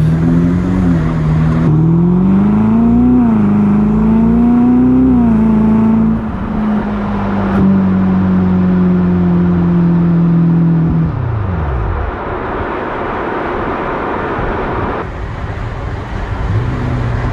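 A Ferrari SF90 Stradale, the 1000-horsepower hybrid, running in thermal mode accelerates uphill on a damp road. Its loud, close engine drone climbs steadily in pitch, then drops away into softer road and wind noise.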